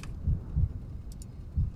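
Heartbeat sound effect from a horror video game: slow, muffled low thumps, with a single beat and a double beat close together, then another beat after a pause, over a dark droning background.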